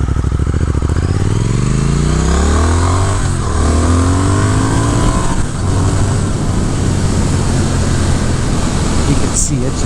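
A 2022 Triumph Speed Twin motorcycle engine revving high while riding: the engine note climbs steadily as it accelerates through the gears with brief dips at shifts, loud and close over constant wind noise.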